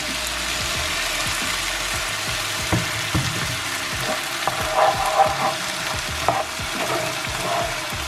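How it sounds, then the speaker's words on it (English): Red wine stock hits a hot frying pan to deglaze the base of a vegetarian shepherd's pie filling, giving a steady sizzle with scraping and stirring knocks throughout and a few louder bubbling bursts toward the end. "I'm just going to pop in my red wine stock, which is going to deglaze the pan"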